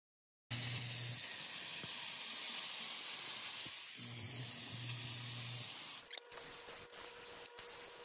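A Bissell Power Steamer jets steam across a stove top, a loud steady hiss running for several seconds with low motor hum underneath, then cutting off to quieter clicks and handling noise.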